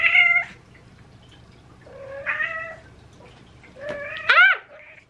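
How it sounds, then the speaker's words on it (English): A pet cat gives three drawn-out meows, loud and close, separated by quiet pauses, the last one rising and wavering. "This is my cat"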